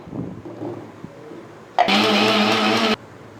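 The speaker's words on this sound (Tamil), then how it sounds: "இப்போ அரைக்க வேண்டிய சின்ன வெங்காயத்தை அரைச்சிப்போம்." A kitchen mixer grinder whirs loudly as it grinds small onions, starting abruptly after a quiet pause and running steadily at high speed for about a second before cutting off.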